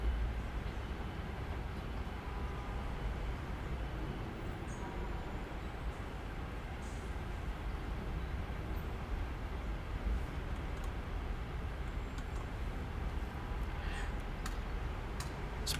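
A train in Train Sim World 4 pulls away with a steady low rumble and faint ticking and clicks, heard continuously throughout.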